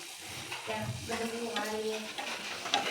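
Boondi drops of gram-flour batter fry gently in a pan of oil over a low flame, giving a soft steady sizzle with scraping stirs and light clinks, alone with no talk.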